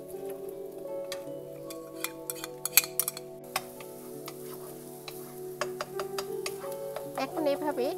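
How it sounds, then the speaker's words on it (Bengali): Two eggs stirred and broken up in a pan with noodles, giving a soft sizzle with scattered light clicks and scrapes of a utensil, close and fairly quiet. "এখন এভাবে ডিমটাকে আমি ভালো করে এরকম করে একটু কুচি করে নেব"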